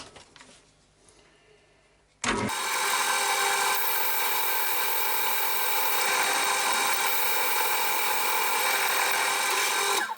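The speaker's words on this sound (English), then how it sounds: "So, drill a hole." A power drill whirs steadily and loudly for several seconds as it bores into wood, after a short stretch of quieter background noise.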